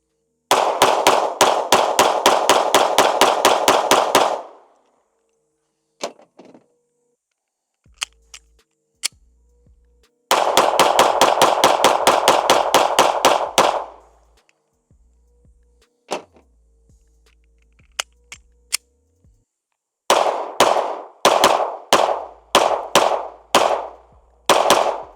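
A compact Springfield Hellcat Pro Comp pistol fired at a range in three rapid strings of sharp, loud shots, each burst of about ten to fifteen rounds, separated by pauses with a few isolated clicks and single reports.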